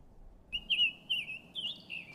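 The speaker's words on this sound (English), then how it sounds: "Summer tanager" A summer tanager's song played back through a phone bird-ID app: a few clear, slightly burry whistled phrases in quick succession, moderately loud against faint low background hum, no talking.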